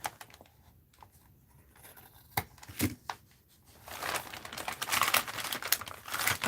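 Paper covered in masking tape being cut and handled for an art journal, with crinkling and tearing sounds, a few sharp snips, and louder rustling toward the end, close up with no talking.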